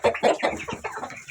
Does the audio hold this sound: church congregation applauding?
no